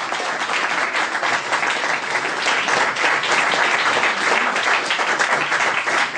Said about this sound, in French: qu'on peut applaudir bien fort aussi